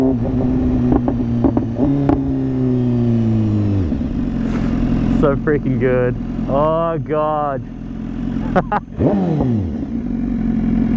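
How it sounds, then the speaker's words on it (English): A 2015 BMW S1000RR sport motorcycle with an SC-Project exhaust drops through several quick downshifts with rising rev blips and crackles, close by, while someone talks briefly over it. "Listen to this downshift, man. Listen to this downshift."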